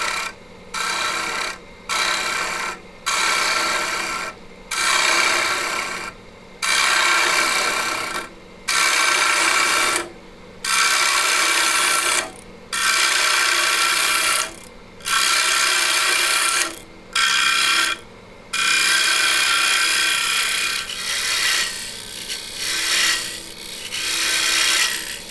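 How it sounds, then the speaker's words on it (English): A turning tool cuts wood on a lathe in a long series of rasping, scraping passes broken by short pauses, loud and close with a steady hiss-like texture throughout. "now I'm gonna come in with a turning tool and turn that through so it'll be nice and clean"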